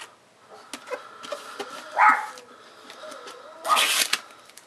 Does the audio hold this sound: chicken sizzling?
no